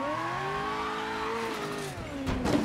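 A car engine drives in Mafia 3, steady revving with smoothly rising and falling pitch, then tires squeal briefly near the end as the car skids, loud and close with no talk over it.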